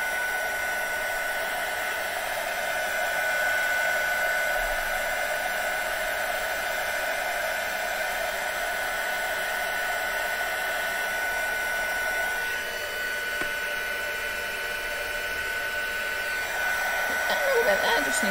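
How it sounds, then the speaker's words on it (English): A heat gun used for heat embossing in a craft session gives off a steady, close, blowing hum with a constant tone throughout, unbroken from start to finish. "I love a bit of heat embossing."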